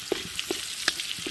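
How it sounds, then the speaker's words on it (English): Onion sautéing in hot oil for pork binagoongan, a brief close sizzle broken by a few sharp clinks and scrapes of a utensil against the pan, no voices. "we're just going to give this onion maybe a minute or so, just to, you know, saute it more"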